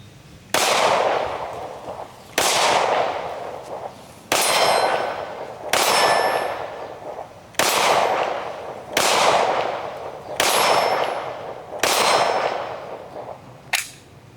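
Outdoor 5.7x28mm pistol fire at steel targets, each shot followed by a ringing metallic clang, about eight evenly spaced shots with long decaying rings, loud and close with no talking.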